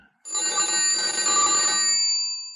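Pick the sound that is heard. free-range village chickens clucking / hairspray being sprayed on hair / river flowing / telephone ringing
telephone ringing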